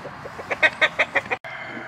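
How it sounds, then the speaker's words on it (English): A loose farmyard rooster clucks in a quick series of about six sharp, fairly close calls, then stops abruptly over a faint steady background hum. "That rooster bugging me."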